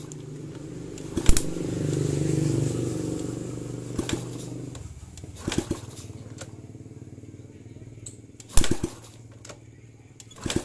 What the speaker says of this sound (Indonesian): Oke, kita akan coba engkol.